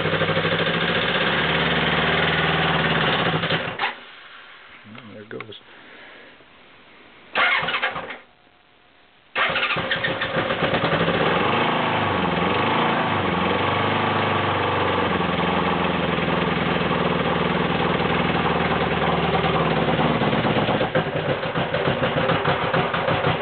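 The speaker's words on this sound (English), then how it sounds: "I'm gonna give the Honda an old fire up here. It's a 750 K Honda, 1979." A 1979 Honda 750 K motorcycle engine cranking and catching after a couple of brief stutters and pauses, then settling into a loud, steady, close idle that runs on alone.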